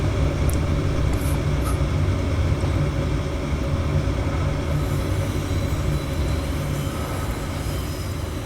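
A train in the video game Transport Fever 2 rumbles along steadily with a low drone and faint metallic squeals of wheels on rails, continuous and fairly loud throughout.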